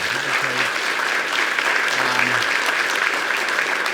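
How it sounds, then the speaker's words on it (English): Sustained crowd applause for a university athletic director at a basketball coach's introductory press conference, steady and fairly loud, with faint voices underneath. "Give him a round of applause."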